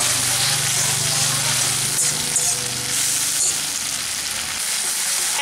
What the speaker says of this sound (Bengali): এখন আমি তেলের মধ্যে এই গ্রেট করে রাখা আদা আর টমেটোটা দিয়ে দিচ্ছি। এটাকে একটু নেড়ে নেব।